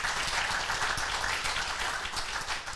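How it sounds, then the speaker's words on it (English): Conference audience of about a hundred people applauding at a closing session, a continuous wash of clapping that sounds somewhat distant and moderately quiet, with no voices on top. "You can applaud yourself."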